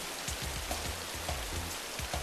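Acid rain pours down during a storm in a cartoon, a dense, continuous patter of drops hitting surfaces, steady and fairly loud, with soft low thumps underneath and no voices.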